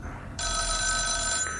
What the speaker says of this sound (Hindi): और तभी नितिन का फ़ोन बजा।